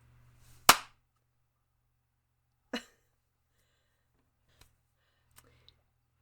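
A single sharp, loud hand clap made to sync a podcast recording, followed two seconds later by a second, slightly softer clap, then a few tiny faint clicks in an otherwise quiet room.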